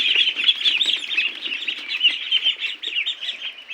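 Pekin ducklings give a continuous chorus of high, overlapping peeps and chirps, close and fairly loud, with no pauses.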